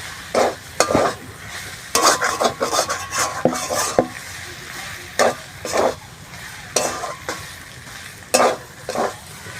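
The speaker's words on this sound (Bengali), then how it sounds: "কিছু একসাথে এবার ভালোভাবে মিশিয়ে নিচ্ছি" Katla fish cutlet mixture with bread crumbs being stirred and mixed together in a bowl: repeated close scraping, squelching strokes in uneven bursts, with no talking.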